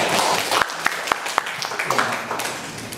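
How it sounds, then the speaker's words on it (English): Applause from an audience after a guest lecture on human rights, a broad wash of clapping with a few sharper individual claps standing out, steady and moderately loud throughout. "give him applause"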